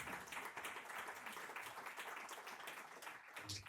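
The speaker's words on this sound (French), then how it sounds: "On applaudit pour le coup" Steady applause from an audience at a startup pitch event, dense clapping held at an even level for several seconds, fairly distant and soft.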